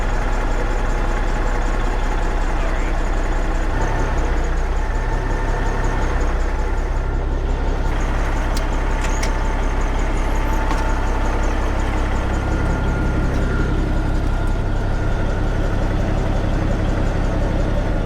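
An engine on a 1940s seed cleaner idles continuously with a steady low rumble, close and loud, its tone shifting slightly partway through.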